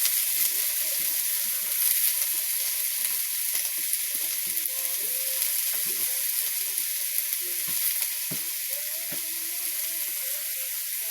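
Food fries in a pan with a constant bright hiss, while repeated scraping stir strokes cut through the sizzle at an uneven rhythm.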